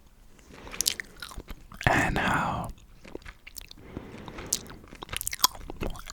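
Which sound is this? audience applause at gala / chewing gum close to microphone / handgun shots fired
chewing gum close to microphone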